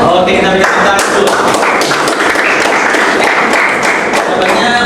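Students in a classroom clap together in a loud burst of rapid, overlapping hand claps that carries on steadily for several seconds, with some voices mixed in.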